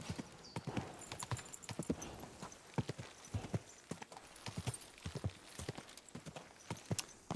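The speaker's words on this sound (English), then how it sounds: "I need to slow the horse down" Horse hooves trot in the medieval game Kingdom Come Deliverance 2, a quick, steady clip-clop that stays close and clear throughout with no talking.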